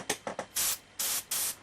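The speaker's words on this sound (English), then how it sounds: "when we spray, as soon as you push your finger down, majority of there just busts out" A Hseng HS-30 airbrush sprays paint in bursts, three short quick puffs followed by three longer sustained hissing sprays, close and clear with no talking.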